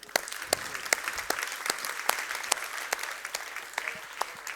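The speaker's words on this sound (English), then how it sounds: "thank you to the last round of applause, please." Audience applause fills the room at the closing session of the Stockholm Internet Forum, a steady moderate patter of many hands with sharper individual claps standing out.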